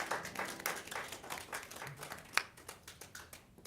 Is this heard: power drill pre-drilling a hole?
no